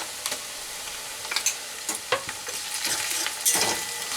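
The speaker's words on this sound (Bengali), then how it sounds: "পেঁয়াজটা একটু ভাজা ভাজা হতেই আমি দিয়ে দেব যে চিংড়ি মাছটা পেস্ট করে রেখেছিলাম" Shrimp paste is tossed into fried onions in a pan for a dhaba-style echor dish, giving a crackling sizzle with several sharp scraping stirs that grow busier toward the end.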